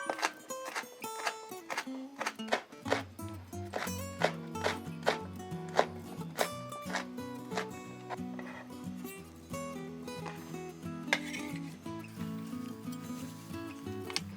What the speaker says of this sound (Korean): 대파는 가운데 칼집을 넣어 안에 있는 심을 제거해 주시고 어슷하게 채를 썰어 주세요